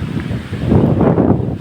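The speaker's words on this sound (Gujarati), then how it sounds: "ફૂલ જોશમાં પવન ઉડી ગયો ભાઈ." Strong gusty wind during a dust storm buffets the microphone with a loud, close, low roaring rumble that surges and swells throughout, with no voices.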